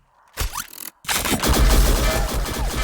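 Crossbow firing in the shooter game XSHOT: two sharp bursts, then a louder sustained barrage of impacts and rattling blasts carrying through to the end.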